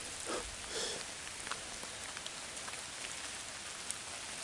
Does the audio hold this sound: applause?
no